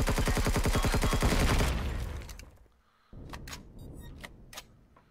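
Gunfire in the Empyrion Galactic Survival video game: a loud, rapid burst of automatic shots for under two seconds, then fading echo and a few scattered, fainter clicks and impacts.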